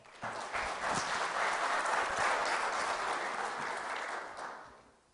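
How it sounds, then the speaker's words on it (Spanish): Audience applause for a guest at a hydraulics lecture on canal design rises quickly, holds as a steady wash of clapping for about four seconds, then dies away; fairly quiet and heard with no speech. "Para él pido un fuerte aplauso,"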